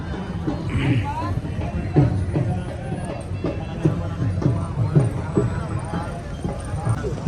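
Horses with riders trot past at a jeep rally cultural show in Thal, their hooves clip-clopping in a steady rhythm beneath a crowd's hubbub and someone commentating.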